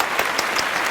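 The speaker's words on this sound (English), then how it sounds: "Give yourself a huge round of applause." Applause from a watercolor class group after finishing a mountain landscape painting, a short burst of dense clapping, fairly close and steady, with no talk over it.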